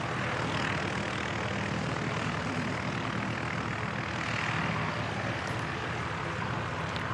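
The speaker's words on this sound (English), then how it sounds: "Another ATR heading out. This one's going up to Wellington." An ATR turboprop departs Christchurch Airport bound for Wellington, its propeller engines a steady, broad roar that holds fairly loud and even from start to finish, with no voices heard.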